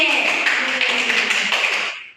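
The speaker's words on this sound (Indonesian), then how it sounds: "Oke, tepuk tangan untuk Inde." Schoolchildren in an elementary civics class clap for a classmate, a brisk burst of many hands close by that fades out at the end.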